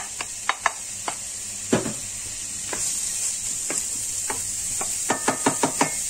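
Onions sizzle in olive oil in a pot, a steady frying hiss broken by scattered clicks and scrapes of stirring, close and alone with no talk.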